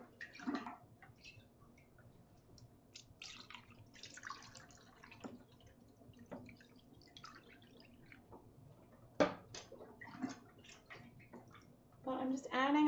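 Water is poured into a container to pre-soak yarn before dyeing, with intermittent splashing and dripping heard under a person talking indoors.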